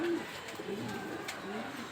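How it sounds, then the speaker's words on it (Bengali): Soft, low cooing from a pair of pure Afsan grizzle racing homer pigeons, a male and a female with rings on their legs, heard as a few brief calls close by over quiet background. "এক জোড়া পিওর আফসান গ্রিজেল রেসার হোমা কবুতর"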